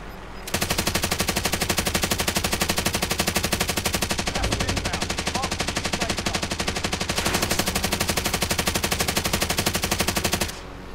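Rapid, sustained automatic gunfire from the video game Call of Duty Warzone, a loud close burst of evenly spaced shots running for about ten seconds without a break, with no talking.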